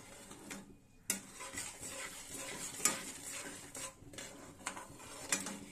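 Suji barfi mixture melting in a pan, stirred with a utensil that scrapes and taps the metal in uneven strokes over a soft sizzle, close and fairly quiet, with no talking.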